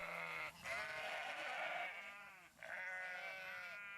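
Goats and sheep bleat on a hillside grazing pasture at a farm, several overlapping calls close by in a nearly continuous chorus with two short breaks.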